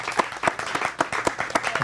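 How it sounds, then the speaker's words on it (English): Audience applause after a stage appearance on a talk show, a short burst of many hands clapping in a steady patter, moderately loud and fairly close. "Let's give him a applause and appreciation."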